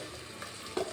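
Ground green masala paste goes into a hot pan and sizzles at low volume, with a short louder burst of frying and stirring near the end.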